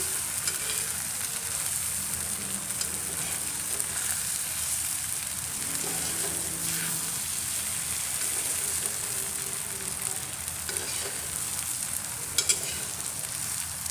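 An egg frying in oil in a pan for a scrambled egg dish, giving a continuous soft sizzle with faint crackles and a couple of small clicks near the end.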